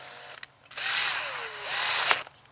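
A power drill's chuck spins and tightens onto an extractor bit over a stripped screw, a close whirring burst that rises in pitch, holds, then winds down, with a brief click at the start.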